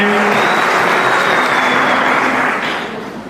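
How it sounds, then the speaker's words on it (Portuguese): A church audience gives the pastor a loud, dense round of applause that stays steady, then eases off toward the end. "Uma salva de palmas aí para o pastor,"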